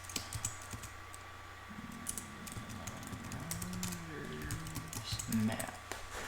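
Computer keyboard typing with quick clustered keystrokes, mostly under a nearby voice talking over it.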